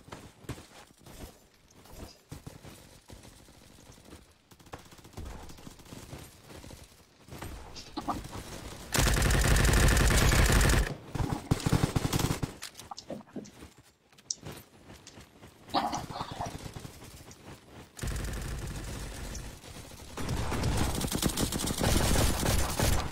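Rapid gunfire from a Roblox toy-gun shooting game, bursts of dense automatic shots in loud stretches separated by quieter gaps with scattered footsteps and clicks.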